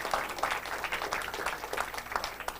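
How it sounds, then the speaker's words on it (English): Audience applause at a college event for students, heard as steady, dense clapping at moderate distance that holds at an even level throughout with no voices over it. "I request a huge round of applause to all the students present here"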